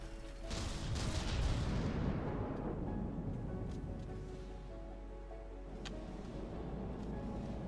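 Cram cannons and missiles firing in From the Depths: a heavy, booming rumble of launches and blasts swelling in the first few seconds, then a lower sustained roar with a sharp crack near six seconds, steady and fairly distant.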